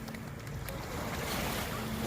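A husky dog paddles through water, a steady washing, splashing churn that fills the whole stretch under wind noise, with no voices.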